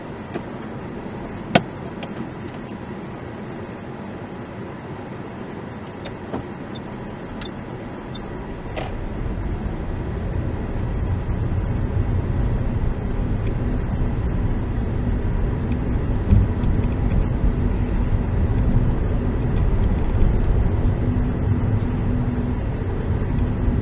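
A learner car pulls away during a driving lesson in Harehills, Leeds, heard from inside the cabin: a low engine rumble that builds and steadies after a few clicks and knocks, with faint road noise and no speech.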